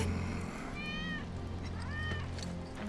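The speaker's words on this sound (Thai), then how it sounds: "That's Wedge's cat." A cat meows twice within Final Fantasy 7 Remake gameplay, each call a rising-falling mew over a steady hum of background game music and ambience.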